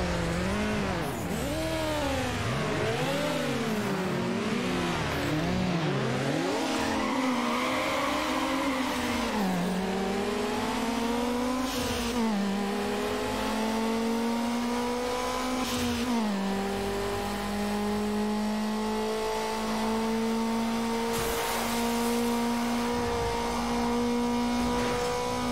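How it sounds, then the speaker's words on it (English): Car engine in Need for Speed Underground on Xbox revving continuously at high pitch, rising and falling through gear changes before holding a long sustained whine, loud and steady with no talk. "this engine's just revving forever"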